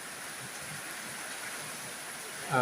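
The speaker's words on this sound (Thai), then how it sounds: "ฝนก็หนาเม็ด เริ่มหนาเม็ด" Heavy rain falls steadily at night in calm, windless weather, a dense even hiss, with a brief louder burst at the very end.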